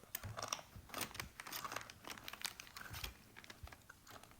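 Someone chews a stiff, crunchy stick of old gum from a 1989 Topps baseball card pack, giving dense, irregular close-up crunching and crackling noises that continue without pause.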